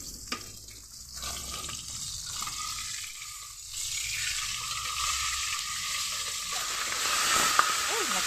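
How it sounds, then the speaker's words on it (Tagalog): Chili peppers fry in oil in a home kitchen, a faint, continuous sizzle with occasional light clicks and clatter. "Pati sili mga kadudis, pinirito ko."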